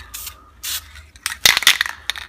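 A spray gun mists clear coat paint in several short hissing bursts, close and crisp, separated by brief pauses, with small clicks and scraping handling noises toward the end.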